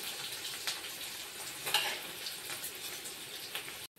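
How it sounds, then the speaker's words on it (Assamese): Onion frying in hot oil in a home kitchen gives a faint steady sizzle and crackle, with a few sharper spits and pops, close by and without talk. "পিঁয়াজটো ভাজি লওঁ"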